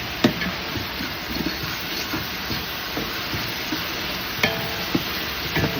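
Masala paste stirred in a pan over a high flame for hotel-style chicken curry, a steady sizzle and hiss with scattered scraping clicks of the spoon against the pan.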